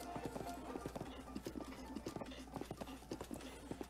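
Horse hooves clip-clop in a quick, steady rhythm in the video game Breath of the Wild, close and clear over a low ambient hum.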